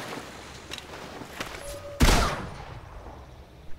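Gunfire in the video game Civilization: Beyond Earth, a single sharp loud burst at mid-clip standing out from a quieter game ambience with a few faint clicks before it.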